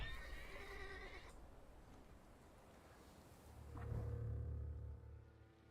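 A horse in the video game The Thaumaturge whinnies in a high, wavering neigh, followed by quieter rumbling and a low snort-like sound, all fairly faint against a soft background hiss.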